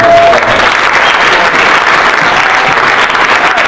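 Audience applause after a panel discussion about cycling and transportation, a loud, dense, continuous patter of many hands clapping throughout, with no talk.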